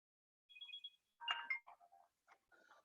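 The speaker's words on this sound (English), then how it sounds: "somebody's phone is ringing" A mobile phone ringtone sounds faintly somewhere in a lecture audience: a short run of bright, repeating melodic tones, followed by a few quieter, scattered noises.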